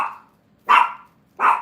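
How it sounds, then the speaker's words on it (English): A dog barks three times in an even rhythm, each bark loud and close, with short silences between them and no talking. "Victoria, stop barking."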